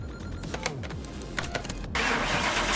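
A car engine in Car Mechanic Simulator 2021 cranks with a rapid starter whir, then catches and settles into a loud, broadband running roar, heard up close.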